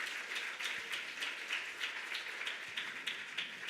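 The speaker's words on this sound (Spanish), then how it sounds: "El pueblo de Dios dice amén, le da un aplauso al Señor." A church congregation claps in steady rhythmic applause, dense and moderately loud throughout, with no talking over it.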